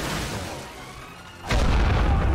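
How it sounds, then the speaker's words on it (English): A single loud blast tears through a trench in the Great War Western Front game. It arrives after a quieter stretch as a sudden deep boom with a sustained rumbling roar. "We need to blow this up. Let's blow this up."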